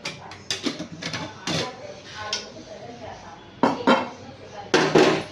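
A spoon clinks and taps against metal dishes and pots while chili powder is added for chicken kebab, giving sharp irregular knocks in bursts at close range.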